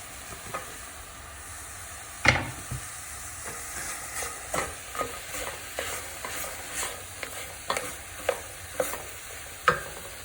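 Chopped red onion tipped into a chili pot, frying with a steady sizzle while a spoon scrapes and stirs in repeated knocks and sweeps, up close with no talking.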